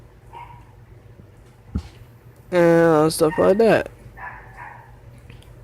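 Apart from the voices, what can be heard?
dog barking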